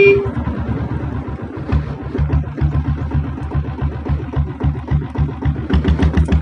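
A 7.5 HP self-start diesel Royal Enfield Bullet with a rocket silencer idles close by, its single-cylinder thump beating in a steady, loud, even rhythm throughout.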